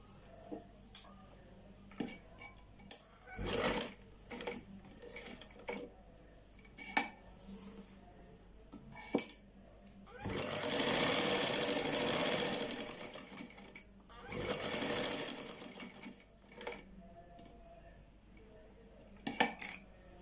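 A sewing machine stitches a seam on a ladies' trouser in short separate clicks and two longer bursts of rapid running, close and fairly quiet, with pauses between.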